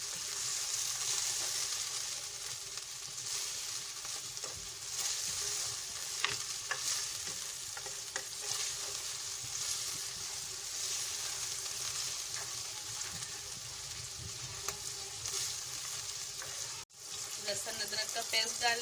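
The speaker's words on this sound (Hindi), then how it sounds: "कीमा डाल के हम 2 मिनट चलाएंगे" Minced meat (keema) sizzles and fries in hot oil while being stirred, a steady close crackling hiss with scraping stir sounds throughout.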